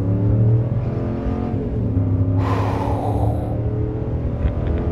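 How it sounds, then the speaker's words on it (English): A 2020 Ram pickup's Hemi V8 engine rumbles with a deep, steady low drone, building into a louder surging rev near the middle before settling back, close and continuous with no talking. "I could listen to this engine all day."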